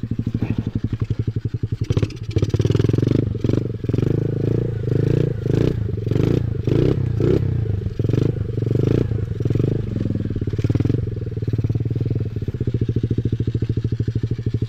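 A Beta 200rr or Kawasaki KLX trail motorcycle climbing a hill on a trail ride, its engine revving hard in rapid pulses with clattering and scraping over rough ground, loud and close, ending in a failed hillclimb.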